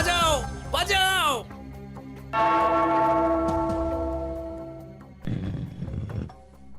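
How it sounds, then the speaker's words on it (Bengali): A cartoon bell strikes once and rings out in a long, sustained tone that slowly fades, with animated voices heard briefly before and after it. "ওই ঘন্টাটা বাজাও, বাজাও।"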